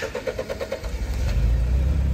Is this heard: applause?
no